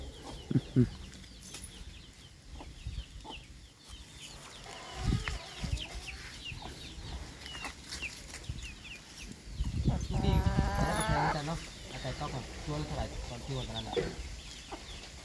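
Chickens cluck and call close by at a farm, in short bursts scattered through the scene. Other livestock bleat faintly, and people speak in the background throughout.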